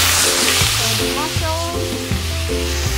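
Garlic fries in a wok, a loud continuous sizzle with stirring scrapes and clatters throughout, no voices.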